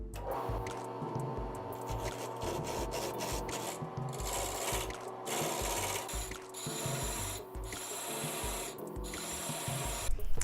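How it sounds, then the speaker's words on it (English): A turned mahogany piece spinning on a lathe is sanded, giving a continuous close, raspy rubbing hiss with rhythmic pulses of abrasive scratching and no voices. "Rounding the corners a bit and then sanding smooth."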